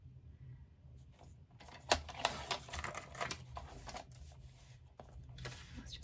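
Scissors cut cross-stitch fabric to size, giving a run of quiet, irregular snips and crisp clicks that cluster closely with short pauses.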